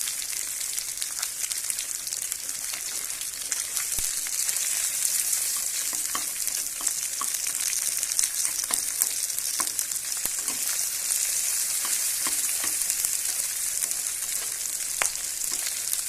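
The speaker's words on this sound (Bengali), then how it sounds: "এবার দিয়ে দেবো গোটা জিরে, বেশ কিছু গোটা জিরে দিয়ে দেবো।" Whole cumin seeds fry in hot oil for a dish of ground kohlrabi greens, giving a steady close sizzle with scattered pops and crackles and occasional stirring, no voices.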